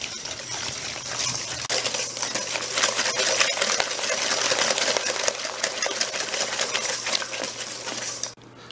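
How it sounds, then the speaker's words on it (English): Steady, rapid clicking and scraping of a whisk beating oil, eggs and sugar in a bowl for carrot cake batter, close and continuous for several seconds before stopping abruptly. "I'm just going to use a whisk to mix this together"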